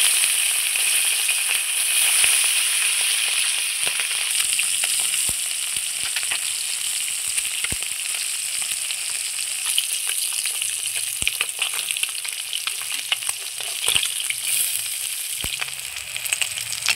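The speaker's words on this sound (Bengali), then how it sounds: "এবার আমি এক এক করে পুঁটি মাছগুলো ভেজে নেব।" Small puti fish fry in hot oil, added one at a time, producing a loud, continuous, close-up sizzle with scattered sharp pops and crackles and no talking.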